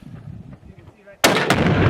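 A single loud, sharp blast from a gunshot detonating Tannerite packed in a minivan engine compartment, hitting suddenly after quieter background noise and followed by a roaring echo.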